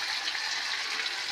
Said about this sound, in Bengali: আর একটু জল অ্যাড করবো।